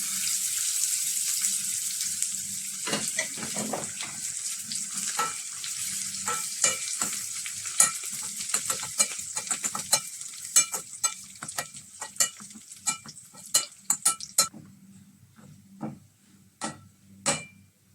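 Garlic, ginger and dried red chilies frying in hot oil for a dal tempering: a bright, dense sizzle at first, then spatula taps and scrapes against the pan that grow sparser as the frying dies down.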